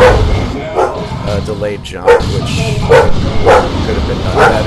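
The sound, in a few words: dog barking in the background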